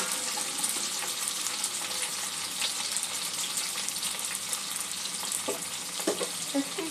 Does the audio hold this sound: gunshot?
no